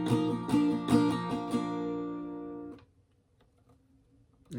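An acoustic guitar strums the second half of the closing part of a song's pre-chorus 2, steady chords for under three seconds before cutting to near silence, with a faint onset at the end.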